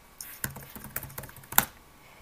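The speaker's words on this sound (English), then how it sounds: "typing too fast to fail at my password" A password being typed on a computer keyboard at an Ubuntu 17.10 Budgie terminal: quick, irregular clicks of keys close by, with a few sharper, louder keystrokes standing out, and no talk.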